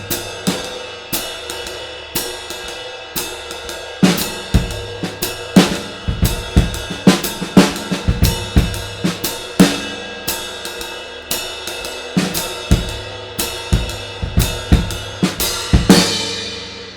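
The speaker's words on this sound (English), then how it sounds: "There's the jazz ride pattern, obviously throwing a few other things in there with snare drum and bass drum." Jazz drum kit with a swinging ride cymbal pattern, snare accents and bass drum hits, played alone at moderate volume with a steady, lively groove throughout.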